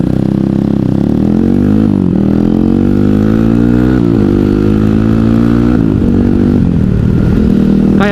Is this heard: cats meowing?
no